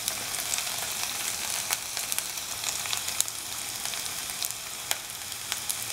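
Shallots and ginger fry in hot oil in a pan, giving a continuous bright sizzle with scattered sharp crackles and pops, close and steady, with no voices.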